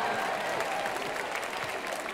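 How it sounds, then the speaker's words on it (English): An audience claps steadily through the whole stretch at a talk on non-conformists and originality, a dense, sustained wash of many hands with faint voices mixed in. "Can you stand up for a round of applause?"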